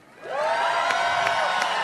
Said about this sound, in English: I had to stop because they were cheering